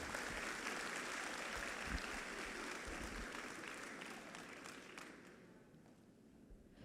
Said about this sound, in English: Please give a round of applause one last time.